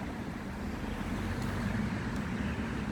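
Car traffic on the Mill Street dual carriageway in Rutherglen makes a steady, moderately loud roadway rumble, a broad continuous wash of passing vehicles with no distinct single pass-bys and no talk.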